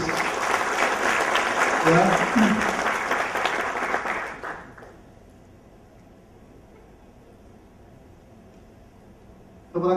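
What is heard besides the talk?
seminar audience applause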